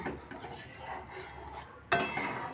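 A spoon stirs sugar into a bowl of homemade sour yogurt, giving faint soft scraping and then a sharper clink of metal against the bowl near the end, quiet and close.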